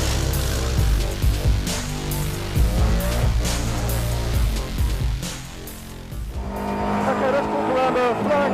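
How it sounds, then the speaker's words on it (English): A SEAT Leon Cup Racer race car on a flying lap, its engine loud and close as it revs and drops through downshifts into a corner, with speech over the engine. "Flying lap in the SEAT Leon Cup Racer, so into the first corner, 5th, 4th, 3rd."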